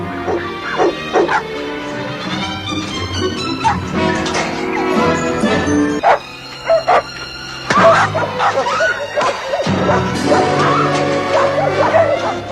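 A dog barks and whimpers in a kids' movie, loud repeated yips and barks over a busy soundtrack of music and effects, with brief pauses between bursts.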